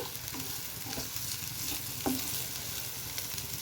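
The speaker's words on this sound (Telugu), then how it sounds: "క్యాలీఫ్లవర్ చక్కగా ఫ్రై అయిపోయింది" Cauliflower sizzles steadily in a hot pan for a cauliflower tomato curry, a close, continuous crackle with occasional scrapes of stirring and no voices.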